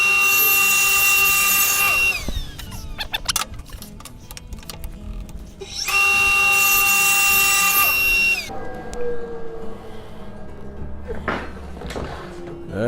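Table saw ripping wood on a crosscut sled, taking about half a tooth per pass: two loud sustained whining cuts, each a couple of seconds long, with clunks and handling noises between them and a quieter rattle near the end.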